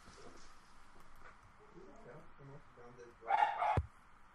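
A dog barks a few times near the end, loud and close, after a stretch of quiet talking in the background.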